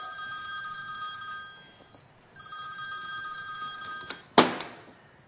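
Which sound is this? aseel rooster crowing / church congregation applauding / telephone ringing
telephone ringing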